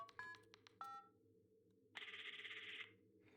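A phone number is dialed on a telephone keypad, a few short separate tones first, then a longer steady tone, quiet and close with no talking.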